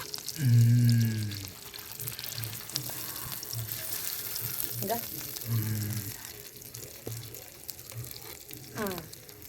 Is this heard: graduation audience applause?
no